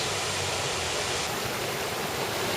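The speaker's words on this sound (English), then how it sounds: "here's a beautiful waterfall. This is Rainbow Falls." Steady broadband rush of Rainbow Falls, a waterfall on Hawaii's Big Island, an even wash of falling water heard alone without voices.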